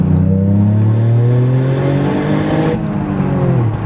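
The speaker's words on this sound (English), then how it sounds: "when you gun it, when it's closed, you can hear like back pressure." A Toyota GR Yaris revs hard through an XFORCE catback exhaust with its flaps closed, giving a muffled, throaty note, pitch climbing then dropping off near the end, loud and close.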